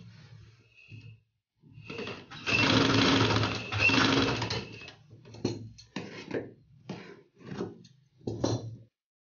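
A sewing machine stitches fabric for a girl's frock in loud close bursts, two long runs followed by several shorter rattling stitches separated by brief pauses.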